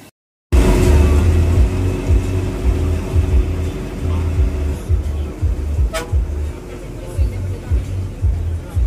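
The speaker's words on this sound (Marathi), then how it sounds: "टेम्पो, आता आम्ही टेम्पोत बसून चालले फोंड्याला." A tempo vehicle carries riders along the road toward Ponda, its engine droning with rhythmic bumps and rattles, plus a sharp horn toot near the middle and background traffic noise.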